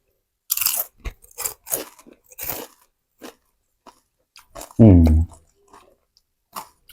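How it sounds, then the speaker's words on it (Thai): Crispy pineapple chewed close to the mic, with a string of loud, separate crunching bites and pauses, and a short voiced hum partway through. "ฟังเสียงนะกรอบมากเลย"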